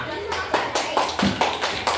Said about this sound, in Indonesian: Oke, kita beri aplaus sama-sama